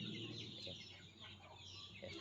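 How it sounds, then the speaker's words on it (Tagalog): Free-range native chickens cluck and chatter nearby against a steady low hum, with a few sharper calls rising over the flock's continuous murmur. "makita yung ating mga alagang manok"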